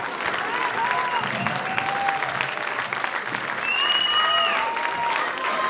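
Sustained audience applause fills the room from start to finish, with a dense steady patter of clapping that swells slightly toward the end, while faint whistles and cheers rise above it.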